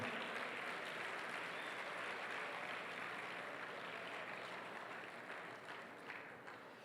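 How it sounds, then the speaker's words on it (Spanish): A church congregation applauds at a Sunday service, a dense, steady wash of many hands clapping together that tapers slightly toward the end. "Ríndele fuerte ese aplauso al Señor."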